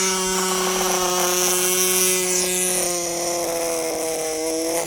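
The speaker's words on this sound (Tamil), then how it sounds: "நம்ம பையன் வந்து ட்ரில்லிங் மிஷின் ரெடி பண்ணிட்டாங்க." Drilling machine running steadily and loudly for the whole stretch, a continuous motor whine with strong harmonic tones and no pauses.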